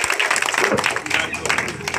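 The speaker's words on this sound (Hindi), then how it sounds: "अब एक बार जोरदार ताली बजाइए" Audience clapping at a Jan Suraaj political rally for a politician, a dense sustained patter of many hands filling the whole stretch, with a voice mixed in over it.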